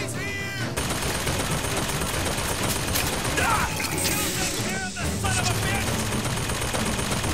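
Rapid gunfire in Bioshock Infinite, dense continuous bursts of shots and mechanical clatter filling the scene with a brief lull near the end, and a voice talking over it.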